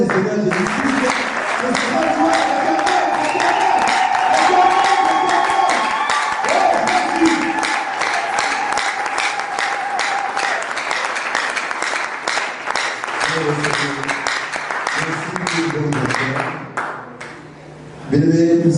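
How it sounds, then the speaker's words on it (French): A church congregation at a French-language evangelical service breaks into sustained loud applause and acclamation, dense clapping with shouts and a sung or held tone running through, fading near the end. "qu'on puisse acclamer très fort le Seigneur Jésus-Christ"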